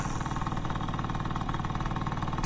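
A motorcycle engine drones steadily while riding on a road near Dago, a close, continuous mid-pitched hum with a faint rhythmic pulse, ending in a brief sharp bump.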